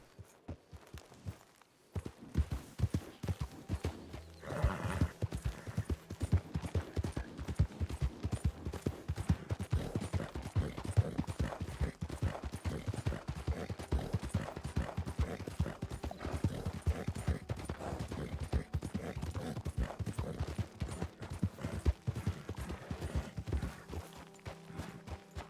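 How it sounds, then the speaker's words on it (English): Horses in the video game WildRP clip-clop in a dense, continuous run of hoofbeats after a brief quiet start, with a short whinny-like sound near the beginning. "Like a chorus of horses."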